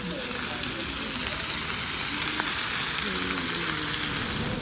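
Onions and cheese sizzle and fry on a hot metal plate in China, a steady close crackling hiss that runs the whole time while a person talks over it.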